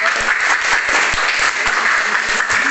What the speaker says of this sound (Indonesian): Kita beri aplaus kepada kelompok